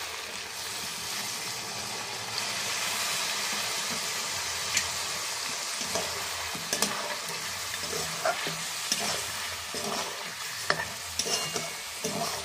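Chicken sautéed in a pan with marinated yogurt stirred in for gondhoraj lemon pepper chicken: a steady close sizzle with spatula scrapes and stirring throughout, no voices.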